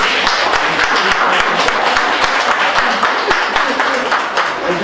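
Audience applause fills the room steadily, dense overlapping claps from a crowd honoring loyal clients at an optical clinic opening, with some murmur mixed in and no pauses.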